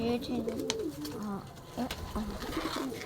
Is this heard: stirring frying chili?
no